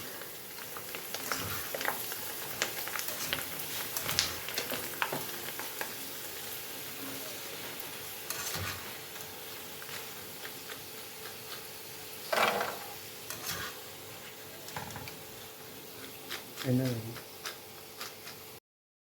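Papad roasting dry in a pan gives faint crackles and light ticking sizzles, scattered and intermittent with a few louder crisp snaps, while a person talks over it.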